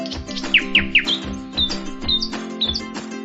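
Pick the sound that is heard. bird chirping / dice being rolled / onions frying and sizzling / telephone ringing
bird chirping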